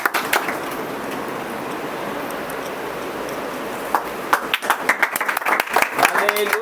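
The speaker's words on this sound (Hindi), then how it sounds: "ताली बजाई, ताली।" A congregation clapping in a prayer hall in Dewas, a steady crowd rustle of hands that turns into sharper, louder, uneven claps in the last few seconds, with voices present throughout.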